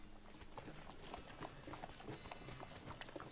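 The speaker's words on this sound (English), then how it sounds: "She neighs with a whispering gratitude." A horse in the video game West of Loathing gives soft, rhythmic hoof clops in a steady trotting pattern, faint and continuous, with no talking.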